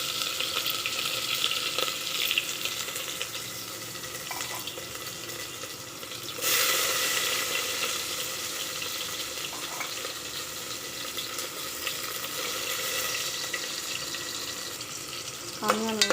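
Onions fry in a pan for a drumstick and tomato curry, a soft, continuous sizzle at low level, rising a little partway through, with faint clinks near the end.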